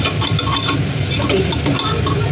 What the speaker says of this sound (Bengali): পেঁয়াজগুলো ভাজা ভাজা হয়ে গেল।